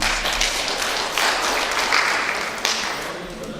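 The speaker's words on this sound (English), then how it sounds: "Clap for him." Applause from a workshop audience on a farm, a dense steady patter of many hands clapping close by for a few seconds, fading slightly toward the end.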